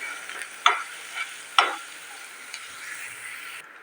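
Spices frying on a high flame for chicken curry, with a steady soft sizzle and a few sharp clinks of a spatula stirring against the pan, close and moderately loud.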